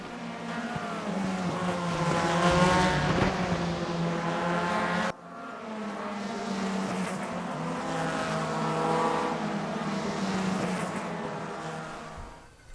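A 2003 DTM race car in the RaceRoom racing video game drives at full throttle, its engine a loud, steady harmonic howl that climbs, drops sharply at a gearshift midway, then climbs again.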